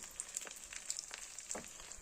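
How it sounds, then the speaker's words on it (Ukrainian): Steady crackling sizzle of eggs frying in a pan, a soft continuous hiss with small pops scattered throughout, heard alone without voices. "І поки воно жариться"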